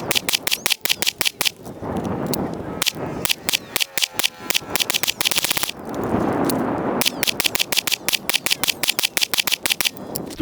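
Rapid pistol gunshots from a handgun fitted with a Harbor Freight weapon light, loud, close and sharp, fired in quick strings with short pauses between bursts at an outdoor range.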